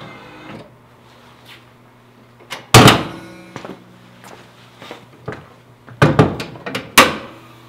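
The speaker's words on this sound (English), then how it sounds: "Why don't you pop up your headlights and we'll pop the hood" The hood of a Nissan 240SX S13 with a black-top SR20DET is popped, a sequence of close mechanical clunks and thumps with sharp latch clicks and a few louder bangs between quieter handling noises.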